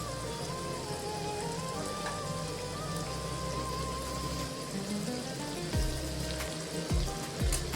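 Mutton brain sizzles and spits in a hot pan, a steady loud crackle like rain on a surface, with a few clanks of utensils near the end.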